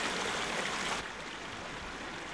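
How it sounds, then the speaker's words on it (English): Flowing water in the Harry Potter and the Prisoner of Azkaban PC game, a steady rushing stream that is brighter at first, then drops to a duller, quieter flow partway through. "Harry, see if you can use the Glacius spell to freeze this flowing water"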